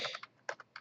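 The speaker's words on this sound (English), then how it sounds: "you're going to type in //th tech" Typing on a computer keyboard, with a few quick close key clicks in an uneven burst and otherwise quiet, faint overall.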